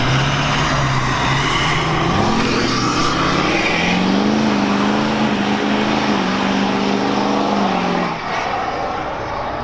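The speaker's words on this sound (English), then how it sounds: "There's our sales guy's truck." A pickup truck engine revs hard and loud up close, its pitch climbing and falling in waves before easing off near the end, with no talk over it.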